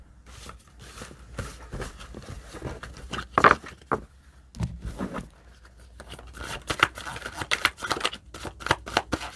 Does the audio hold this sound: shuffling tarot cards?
yes